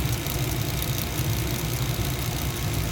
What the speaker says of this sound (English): Now the flame just came on.